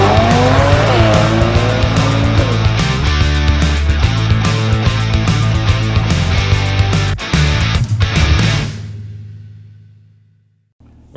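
A 2019 Mercedes-AMG C43 with a performance exhaust, driven in Sport Plus mode through an underground car park, revs hard and loud with sharp crackles echoing off the walls before the engine note quickly dies away.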